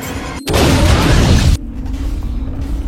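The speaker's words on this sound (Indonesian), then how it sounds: "Liz gagal melucuti bom dan lenyap dalam ledakan tersebut." A film bomb blast erupts as a sudden loud boom, filling the space with a dense, roaring rumble for about a second before cutting off into a lower lingering hum.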